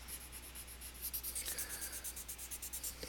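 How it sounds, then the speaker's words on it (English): A rolled-paper blending stump rubs over pencil marks on paper in quick, rhythmic strokes, close and soft, with no talking. "I can blend my pencil marks together to make it look nice and clean"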